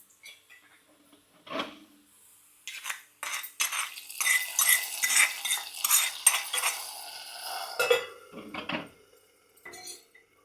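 Crispy tempering poured into a pot of tomato sambar, with the stove being switched off: a quick metallic clink, then a busy stretch of sizzling, stirring and utensil scraping against the pan, close and moderately loud, with no voices.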